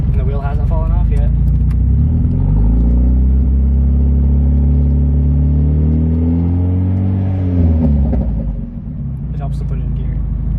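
A Mazda Miata with a suspension fault idles, then its engine rises through a rev as the car rolls off slowly, nearby and rumbling, before settling again; voices talk briefly at the start and end.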